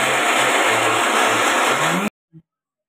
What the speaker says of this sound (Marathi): असंच बारीक करायचं, पाणी नाही टाकायचं।